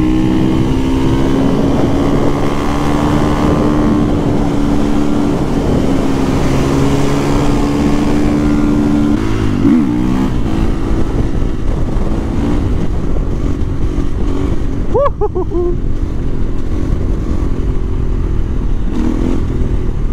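A 2020 KTM 350 EXC-F dirt bike set up as a supermoto runs loud and close, its engine droning steadily with shifts in pitch and a brief rev near the middle, no voices over it.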